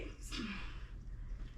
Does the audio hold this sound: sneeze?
yes